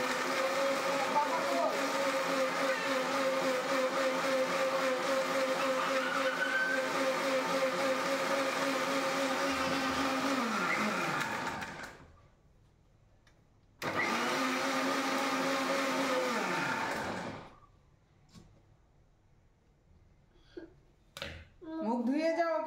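A blender whirs as it mixes a banana milkshake, a loud steady motor whine that winds down, starts again for a few seconds, then stops, followed by faint clinks and a brief pulse near the end.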